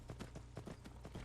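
A horse's hooves clip-clop at a steady trot while riding in the Skyrim video game, a rhythmic series of soft, close thuds with a faint background hum.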